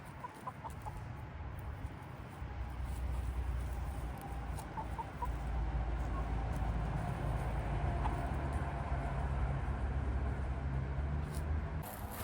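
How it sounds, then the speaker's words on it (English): Young hens free ranging outdoors cluck softly and intermittently over a steady broadband outdoor background, with no talking. "These are our chicks that we got in October."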